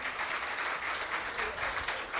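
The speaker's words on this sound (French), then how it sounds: "mais vous applaudissez quand même" A quiz match audience breaks into applause, a moderate, continuous patter of many hands clapping at a steady level for a couple of seconds, with no talking over it.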